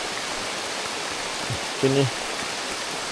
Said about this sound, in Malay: Hujan dah lebat. Dah turun dengan lebat.